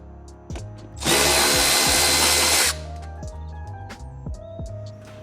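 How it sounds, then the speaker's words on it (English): Power tool with a number 10 socket backing out factory screws on a Gen 3 Toyota Tacoma, one loud whirring burst of about a second and a half between quieter clicks and handling noises. "we're going to need to remove these factory screws from their locations using our number 10 socket"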